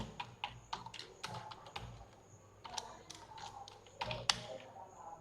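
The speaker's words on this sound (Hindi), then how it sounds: "अब यहाँ से आप टाइप करना शुरू कर सकते हैं" Someone types on a computer keyboard, close-up clicks and taps arriving in uneven bursts with short pauses, fairly quiet and without any talking.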